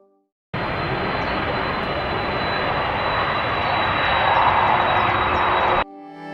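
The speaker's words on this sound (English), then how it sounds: "as they maneuver between mountains at a 45-degree angle before dropping quickly onto the runway" An airliner approaching and landing at a runway between mountains, its engines a loud steady roar that starts abruptly and holds close for about five seconds before cutting out.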